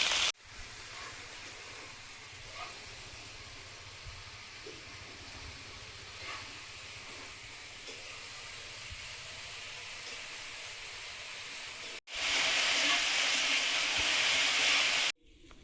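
Okra and green chilies frying in hot oil in a kadai, a steady broadband hiss that holds evenly for a long stretch, then briefly swells much louder before cutting out.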